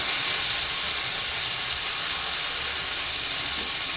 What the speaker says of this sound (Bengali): তো আলুগুলো যেহেতু ভাজছিলাম